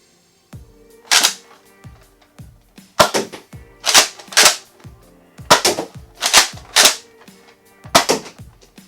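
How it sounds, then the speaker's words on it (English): Repeated ratcheting clicks from priming a Nerf Fortnite Mega tactical shotgun blaster, a toy dart blaster with geared action, come in bursts of sharp mechanical snaps roughly every second, close and loud, with no talking. "I really like the ratcheting noise"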